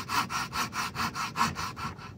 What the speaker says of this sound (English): I took the coping saw and I cut out a rough fish shape